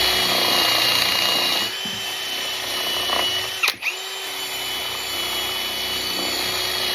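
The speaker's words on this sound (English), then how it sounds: "This brush is slap wore out. But it works. It's just in a drill." A power drill whines steadily as a worn wire brush spins and scrapes against a pitted New Holland 250TL loader cylinder, with a brief pause and restart midway.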